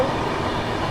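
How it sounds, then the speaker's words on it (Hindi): Varanasi–New Delhi Vande Bharat Express rushing past, a close, loud, steady roar of rolling train noise filling the whole moment with no voices. "ये आ गई वाराणसी नई दिल्ली वंदे भारत एक्सप्रेस"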